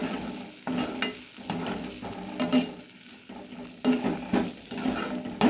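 A spatula stirs a black sesame chutney mixture in a hot pan just after the heat is turned off, giving steady, close scraping and rustling strokes with a faint sizzle underneath, and no talking.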